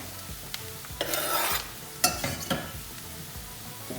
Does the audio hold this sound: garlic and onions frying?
yes